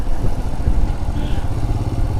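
A motorcycle ridden along a railway station platform, its engine a steady, loud, close mid-pitched rumble with some clatter, running continuously throughout.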